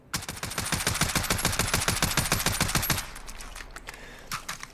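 A VKS rifle in Call of Duty Modern Warfare fires one sustained full-auto burst of evenly spaced, loud, punchy shots for about three seconds, then falls to a fading echoing tail.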